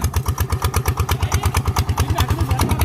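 A tuned motorcycle engine with a new camshaft revs in second gear with a steady pulsing throb and clatter, loud and close, with no talk over it.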